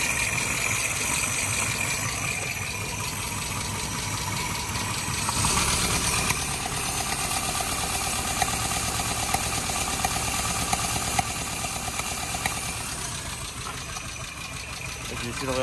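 A Suzuki Samurai engine with a carburettor idles nearby in a steady, rumbling drone that runs throughout with a slight irregular knock, while someone talks over it.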